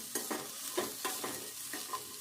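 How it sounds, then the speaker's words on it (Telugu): An onion roasts in a pan for an old-style raw fish curry, a soft sizzle under a series of quick scraping stirs at a regular beat, faint and close. "ఒక ఉల్లిగడ్డను కూడా ఇట్లా వేపుకుందాము"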